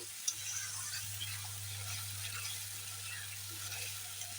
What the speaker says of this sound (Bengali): এখন দিয়ে দিচ্ছি আদা পেঁয়াজ রসুন কাঁচা লঙ্কা বাটা দিয়ে ভালো করে একসঙ্গে কষিয়ে নেব